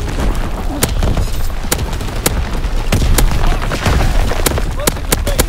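An artillery battery firing in Call of Duty: WWII on the Shipment 1944 map sounds as a rapid series of sharp booms and gunshots over dense battle noise, with voices speaking throughout.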